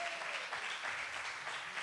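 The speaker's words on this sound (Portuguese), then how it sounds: "Pode aplaudir a palavra de Deus." A church congregation claps after a sermon, a brief, faint, dense patter of hands heard from a distance.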